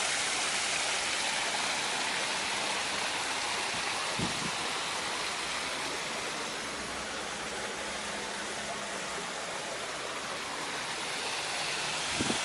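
Steady broadband rush of a backyard pond waterfall splashing, continuous and fairly close with no talk over it, in a private home garden in Homestead, Florida.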